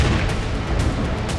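An explosion sound effect: a dense, heavy rumbling boom filling the short burst at full loudness, with low-end thuds rolling throughout.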